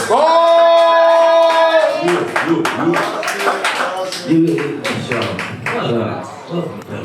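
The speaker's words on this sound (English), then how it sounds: "So y'all give a very warm welcome applause for Bars!" Sharp, close handclaps and taps come from a small audience welcoming a performer at a writing-session event, ragged rather than a dense ovation, mixed with whoops and voices after an opening shout.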